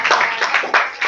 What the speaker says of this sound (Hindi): ताली इनके लिए।